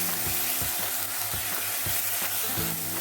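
Ground onion paste frying in oil, a steady close sizzle with a repeated low rhythmic scraping or stirring beat and a faint hum underneath, no speech.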